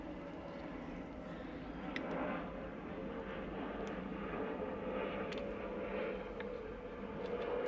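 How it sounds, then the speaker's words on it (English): A steady, distant airplane engine drones overhead throughout, a low continuous rumble with faint background noise. "After this plane goes by, I don't know if y'all can hear it."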